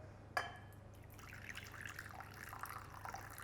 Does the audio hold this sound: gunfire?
no